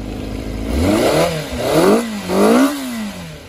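Honda CBX 400 brat-style cafe racer motorcycle with an aftermarket tail exhaust, revved three times in quick succession, each blip rising and falling sharply, loud and close with no talking.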